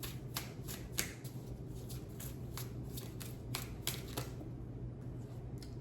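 A mixed oracle card deck being shuffled by hand, with crisp riffling bursts repeating through the clip over a steady low hum, with no talking.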